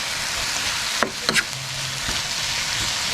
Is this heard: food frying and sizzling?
yes